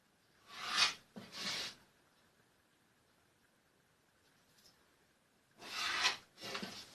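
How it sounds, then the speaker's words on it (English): A pencil or marker draws lines point to point across a wooden fiddle mould, two short scratchy strokes, a quiet pause, then two more, close and faint with no talking. "Draw a line between the points on opposite sides"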